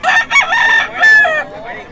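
A single rooster lets out one loud, close crow lasting about two seconds, with a wavering, drawn-out tail, in Bocaue.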